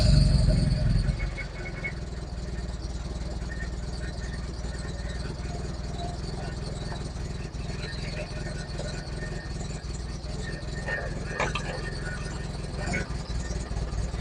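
A rough-running Mazda NA Miata engine idles steadily and fairly close, a continuous uneven drone with a louder burst at the start, while a voice speaks briefly over it.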